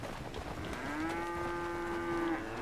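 A single long, steady cow moo rises and holds for about a second and a half on a Red Dead Redemption 2 ranch, moderately close over soft outdoor ambience, with no voices.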